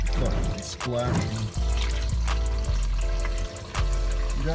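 Engine oil drains from a car with a possible blown head gasket, pouring and splashing steadily into a catch pan nearby, loud and continuous with brief breaks, while someone talks over it.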